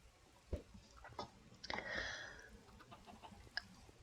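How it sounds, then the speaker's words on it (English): A baby chicken in Minecraft gives a few soft, scattered clucks and chirps against faint background noise. There is a brief brighter burst midway, and the overall level stays quiet. "Hey look, a baby chicken"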